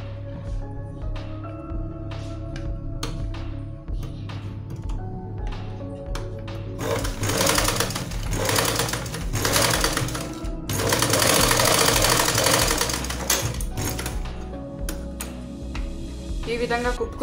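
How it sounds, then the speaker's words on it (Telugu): Sewing machine stitching along folded fabric for a designer dori, a steady mechanical whir with louder bursts as the needle runs, mid-distance and continuous, with faint room sounds between runs. "ఇప్పుడు మనం దీనిపైన కుట్టు వేసుకుందాం."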